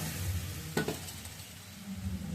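A pot of curry being stirred, with a broad steady sizzle and a brief louder scrape of the spoon near the middle, then a low continuous simmer.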